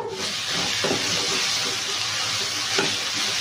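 Thota aaku greens fry in a pan for egg curry with a steady, loud sizzle and hiss and a couple of brief stirring scrapes, with no voices over it.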